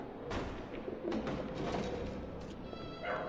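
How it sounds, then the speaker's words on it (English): A pigeon cooing in the Alice: Madness Returns video game, soft repeated coos over a dull background rumble, faint and moderately distant. "A pigeon."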